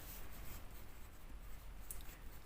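Handwriting a trigonometry solution, pen or pencil scratching continuously on paper at low volume, close by and alone, with one brief sharper stroke.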